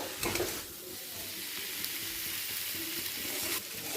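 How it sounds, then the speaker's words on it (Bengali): Fried potato and unripe jackfruit go into a pan of mung dal, which gives off a steady close sizzle after a brief louder burst at the start. "এই সময় দিয়ে দেব আলু আর এঁচড় ভাজা"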